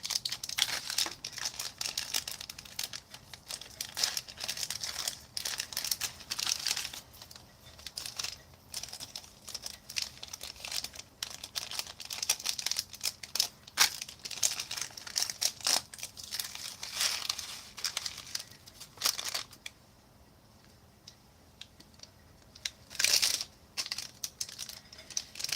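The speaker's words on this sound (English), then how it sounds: "I'm going to use my little cheater tool again to cut these packets open." Foil ration food packets from a 2016 kosher/halal-certified pasta meal are cut and torn open with a small tool, giving a steady run of close crinkling, rustling and tearing with a brief quiet spell near the end.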